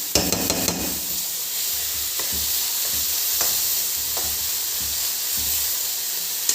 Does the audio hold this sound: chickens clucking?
no